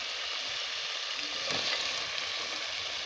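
Boiled beef fries with tomatoes in a pan for a wet fry, a steady close hiss of sizzling that swells briefly as the meat goes in, with no voices.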